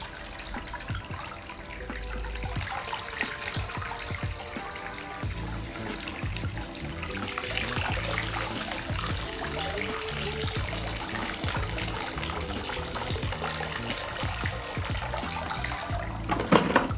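Water pours and splashes continuously out of a Dolphin E20 pool cleaning robot, a steady rushing gush, close by with no voices.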